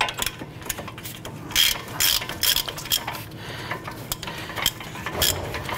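Ratchet wrench spinning the upper strut nut off a 2009-2015 Honda Pilot, a close, quick series of metallic clicks in short bursts with some clinking between them.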